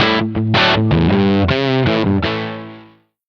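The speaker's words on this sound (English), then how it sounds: "I can play and record my guitar down to the SOS" A distorted electric guitar through an amp model, recorded on a Korg SOS sound-on-sound recorder, plays a short phrase of sustained notes with a heavy effected tone, ringing out and fading at the end.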